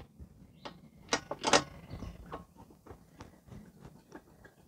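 Socket wrench ratcheting a spark plug out of a Honda GCV160 engine on a Craftsman M250 mower, irregular close clicks and metallic rattles with a few louder clacks, no talking.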